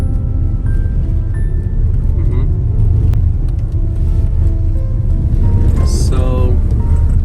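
A Tesla Model Y drives off-road across desert terrain, giving a steady, loud low rumble of tyres and body noise throughout, with a brief brighter rattle near the end and no talk.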